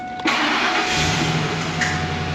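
A Ford F-350 pickup with a 5.4 engine, suspected of a fuel pump fault, cranks briefly on a cold start and then catches, settling into a loud, steady idle heard up close with no talk.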